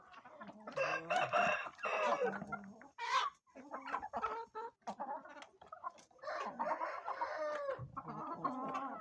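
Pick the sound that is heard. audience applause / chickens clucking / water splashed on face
chickens clucking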